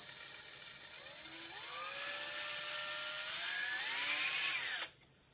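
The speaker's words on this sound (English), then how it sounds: "take your drill, have a little 1/8 inch drill bit on here, and just drill out right inside this hole" Power drill fitted with a small 1/8 inch bit boring into an Xbox One controller's chrome shell, a close, high whine that rises in pitch for about four seconds before cutting off abruptly.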